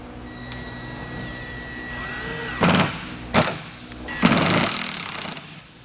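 A power driver sinks self-tapping screws into a saddle-style carrier on a Malone MegaSport trailer in three short, loud whirring bursts, the last one longest, separated by brief pauses.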